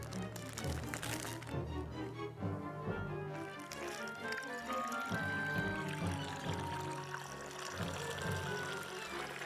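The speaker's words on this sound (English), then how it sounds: "fill a resealable plastic bag with water and seal it." Water pours and gurgles into a resealable plastic bag, a continuous splashing fill running several seconds with a slight hollow resonance, heard close and alone.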